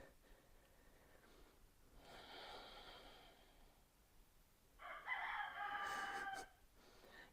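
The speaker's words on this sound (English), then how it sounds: "Got some roosters out the window." Faint roosters crow in the distance, two long drawn-out calls a few seconds apart over quiet background hiss.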